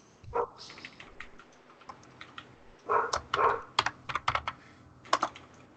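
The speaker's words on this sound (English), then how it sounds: "we can hear you typing" Quiet keyboard typing in short bursts of rapid clicks, with pauses between, close and soft.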